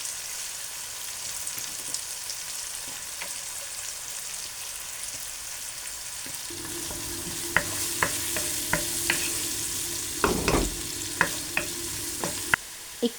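Onion, ginger and garlic sizzle and crackle in hot oil in a pan, a steady frying hiss that thickens midway, with sharp pops and stirring scrapes near the end.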